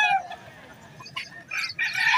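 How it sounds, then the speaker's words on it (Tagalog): Rooster crowing at the Bocaue, Bulacan pet market, one close bird giving a couple of loud, strained crows over faint background market noise. "Ayan po, mga quality manok po dito."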